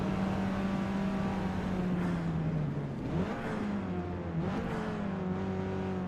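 Engine of a car with a CVT transmission in the Forza Motorsport racing game, holding a steady drone that sweeps up and down in pitch as it revs, loud and continuous with no talking.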